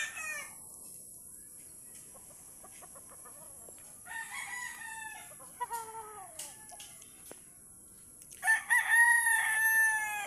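A rooster crows on a farm in Siargao, its calls and clucks from the chickens rising and falling over a quiet background, ending in a louder, closer crow.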